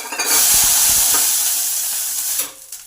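Water splashed onto a hot, oil-brushed dosa pan bursts into a loud, close hissing sizzle that swells almost at once and holds steady for about two seconds before abruptly tapering off.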